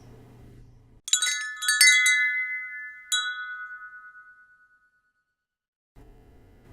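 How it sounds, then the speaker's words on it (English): Bright metallic chimes struck in a few quick clusters, ringing and slowly fading into silence between quiet background hum. "For the next line, we have the wind chimes."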